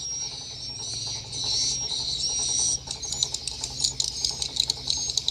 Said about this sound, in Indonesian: Ini suara yang ada di heksagonal, yaitu suara peak super.